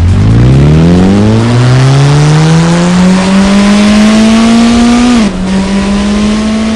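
A powerful sports car engine revs steadily upward in a loud, continuous roar as the wheels spin with the car suspended off the ground, dipping briefly before holding high again.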